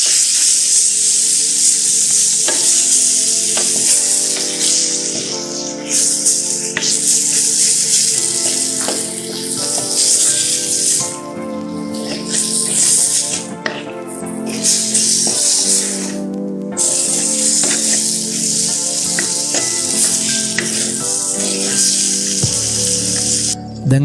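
Seasoned chicken is stirred into tempered spices in a frying pan for a Sri Lankan chicken and vegetable stew, giving a steady close sizzle and rubbing scrape that runs throughout beneath background music.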